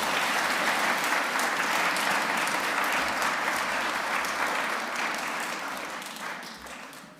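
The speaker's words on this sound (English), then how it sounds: "Let's give them a round of applause." Crowd at a school chapel applauds first graders as they take the stage, a broad, dense wash of clapping that holds steady for several seconds and then tapers off.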